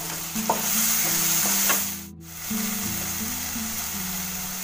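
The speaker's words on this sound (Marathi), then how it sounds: "आता हे नंतर आपलं वाटप कांदा खोबऱ्याचं चांगलं मिक्स करून घ्यायचं" Tomato mixed with an onion and coconut paste in a frying pan over low gas, a loud close sizzle with stirring scrapes and a brief dip in the middle before the frying resumes.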